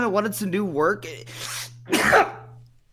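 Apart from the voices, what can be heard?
sneeze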